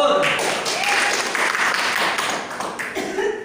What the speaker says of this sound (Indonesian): Terima kasih tepuk tangan untuk Gopur